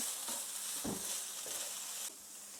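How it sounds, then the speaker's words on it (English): Minced garlic sizzling in a hot pan, a steady bright hiss with a few soft stirring scrapes and clicks, fairly close and moderately loud, easing slightly toward the end. "add in some minced garlic. And let this cook up for a second"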